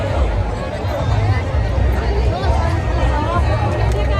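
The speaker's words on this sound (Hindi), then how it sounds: "ये रास्ता का भीड़ है, देखिए जाम।" A huge crowd of Khesari Lal Yadav fans packs a jammed road before his show, filling the air with dense, loud, continuous babble of many voices, while a nearby voice talks over it.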